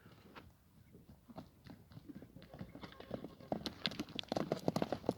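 A three-year-old horse clip-clops along as it walks, the hoofbeats growing louder and closer over several seconds against a faint outdoor background.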